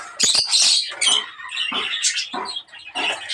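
Caged budgerigars and lovebirds chatter in a quick, busy burst of sharp chirps and squawks, close by and lively, with no voices.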